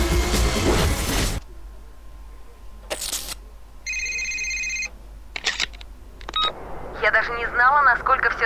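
A phone rings during Need for Speed Most Wanted, with a burst of game sound, separate chirps and a steady multi-tone ringtone stretch, then a warbling electronic ring tone near the end.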